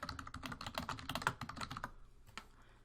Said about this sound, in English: once you start typing your information